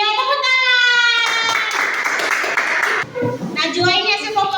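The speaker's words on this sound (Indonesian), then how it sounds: "Iya, tepuk tangan." A classroom of children claps together for about two seconds, a dense burst of applause cheering a group's answer during a lesson on the order of prayer movements, framed by children's voices before and a teacher speaking after.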